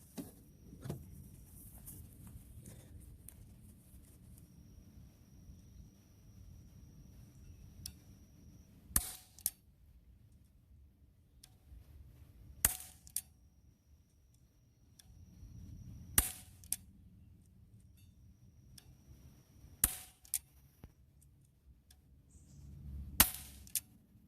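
A Crosman Powermatic 500 BB gun fires Daisy Precision Max BBs at a target 10 yards away. Five sharp, snappy shots ring out several seconds apart, with faint handling noise in between and otherwise near silence.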